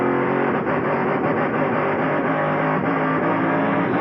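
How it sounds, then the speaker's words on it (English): A NASCAR racing truck at North Wilkesboro runs rough with a misfiring engine, giving a steady, loud, distorted roar with no break and a ragged, uneven texture throughout. "Yeah, we can hear the truck misfiring"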